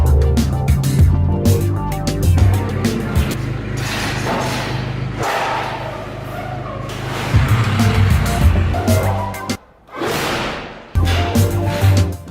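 A Nissan Silvia S15 Spec-R being moved in a garage: a loud, close engine running steadily, with rumbling, thuds and whooshing sounds, and a brief drop near the end before the engine noise returns.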